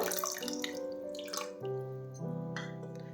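Tamarind water, squeezed from soaked tamarind, pours from a bowl into a pot for urad dal saaru, a steady liquid trickle and splash mixed with faint tonal kitchen background and no speech.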